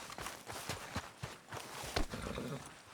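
Horse hooves clip-clopping in Red Dead Redemption 2, a steady walking rhythm of close, moderately loud hoofbeats over low background noise.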